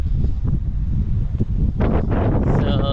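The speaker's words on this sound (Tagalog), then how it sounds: "Sobrang hangin." Strong wind buffeting the microphone with a constant low roar and gusts while walking toward a bridge, and a voice speaking briefly underneath.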